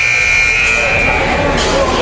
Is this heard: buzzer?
yes